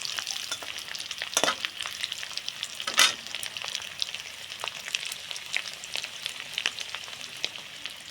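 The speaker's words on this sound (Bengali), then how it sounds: "প্রথমে আমি আলু সিদ্ধ করে রেখেছিলাম হালকা করে বেজে নেবো" Boiled potatoes lightly frying in hot oil give a steady, close crackling sizzle, with scattered sharper pops and stirring scrapes throughout and no voices.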